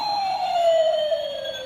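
Toy steering wheel sounding a police siren, a loud electronic wail sliding steadily down in pitch over a couple of seconds, close and alone with no talk over it.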